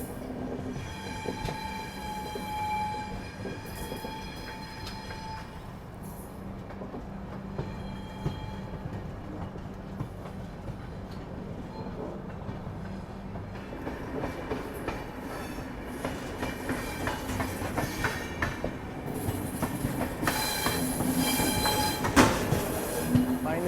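The Prayagraj Bikaner Express runs and picks up speed after a caution stretch near Mathura, its steady rumble and rhythmic wheel clatter growing louder, with squealing tones and rising noise toward the end.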